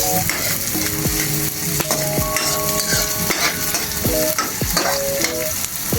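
Onion sautéing in a pan for ginisang giniling, with steady loud sizzling and frying hiss throughout and repeated metallic clinks and scrapes of a utensil stirring against the pan, close up with no talking.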